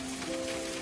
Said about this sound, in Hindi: बाहर बारिश बढ़ती जा रही थी